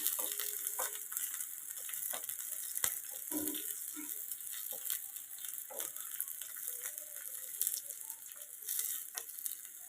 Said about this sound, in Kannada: ಬೀನ್ಸ್ನ ಹಾಕ್ತಾ ಇದೆ ಒಂದು ಸ್ವಲ್ಪ ಕೆಂಪಗೆ ಆಗೋ ಎಣ್ಣೆಲೇ ಇದನ್ನು ಕರಿ ಹುರ್ಕೋತೀನಿ